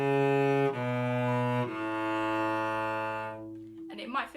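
Bowed cello notes in a finger pattern with a stretched second finger, three sustained pitches stepping one after another, soft and close, ending in a brief breath of a voice.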